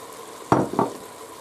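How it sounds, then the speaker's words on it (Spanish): Mushrooms tossed into a hot frying pan for a beer ragout, giving two quick sizzling bursts as they land, then a soft background hiss. "ahora echamos los champiñones"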